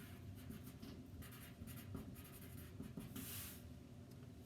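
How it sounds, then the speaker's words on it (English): Pencil writing on paper in a classroom, a steady scratchy scribble running throughout at close range over low background room noise, with no voices. "So before you start, please write your first name,"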